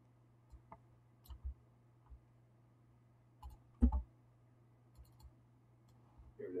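Computer mouse buttons click sparsely at a desk while working in KISSsoft engineering software, single and double clicks spaced irregularly over a faint electrical hum.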